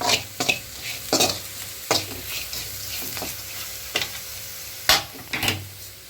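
Bitter gourd roast sizzles steadily in a frying pan while a spoon scrapes and stirs it in irregular strokes, close and moderately loud, with no talking.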